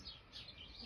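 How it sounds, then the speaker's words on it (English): Wild birds at a woodland garden feeder give faint, high chirps and tweets over a soft outdoor hiss, distant and continuous rather than close. "I'm in awe of all the birds and their wonderful noises and their wonderful plumage."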